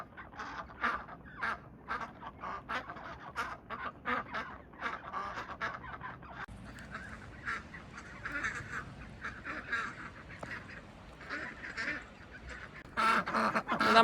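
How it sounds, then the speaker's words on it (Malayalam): Ducks in the snow behind a house quack and honk repeatedly in uneven bursts. The calls are fairly close and loud at times and run through the whole stretch without speech. "നമ്മുടെ താറാവുകൾ ഇവിടെ സ്നോയിൽ"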